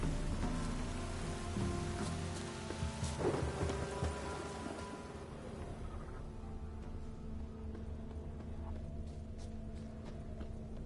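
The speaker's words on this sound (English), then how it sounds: "A storm, damn it." A Witcher 3 thunderstorm, with a heavy rolling rumble of thunder in the first seconds that fades into continuous steady rain. The downpour stays loud and even, and there is no speech.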